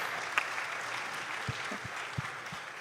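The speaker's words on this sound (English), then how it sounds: "Applause to the winning teams" Audience applause for the winning teams at the Action with Africa National Cup 2023 awards, a steady wash of many hands clapping at moderate volume with a few sharper claps standing out.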